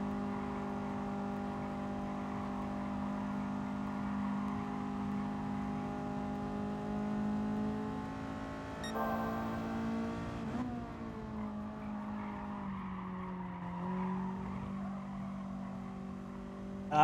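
Race car engine in the Gran Turismo Sport video game, a steady droning hum at constant revs that wavers and drops to a lower pitch partway through, heard without talking.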